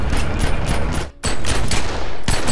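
Loud, dense automatic gunfire from The Secret World, a continuous rattling barrage that cuts out briefly midway, then resumes just as heavily.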